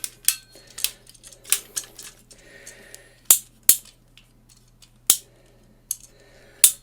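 Plastic panels and legs of a Miniforce Penta X Leo Bot transforming robot toy are folded and flipped, producing a series of sharp, close clicks and snaps at irregular intervals over quiet room tone.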